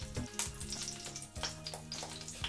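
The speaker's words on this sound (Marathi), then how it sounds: "आता तेल आपलं तापलेलं आहे, त्याच्यामध्ये आता मी आधी राई, त्याच्यानंतर जिरं टाकायचंय" Mustard seeds and cumin hit hot oil and crackle, a close, steady sizzle with sharp popping bursts scattered throughout.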